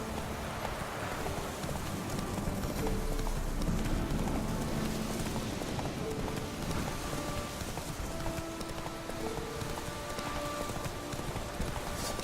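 Galloping horse in the video game The Witcher 3: Wild Hunt, a steady stream of hoofbeats over a continuous rushing, rain-like background, with faint musical tones above.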